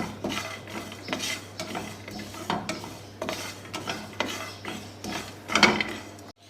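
Sesame seeds and almonds dry roasting in a pan with no oil, a steady series of scraping stirs and light rattling knocks from the utensil, with a louder clatter near the end.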